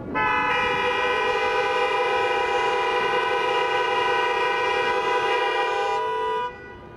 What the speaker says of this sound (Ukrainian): Загиблих у дорожньо-транспортних пригодах згадали хвилиною мовчання та сигналом 24 клаксонів.